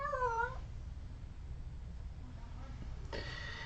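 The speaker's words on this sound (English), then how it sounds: "And my cat's crazy today." A house cat lets out a single wavering meow near the start, close and fairly quiet, followed by a low room hum and a brief voice near the end.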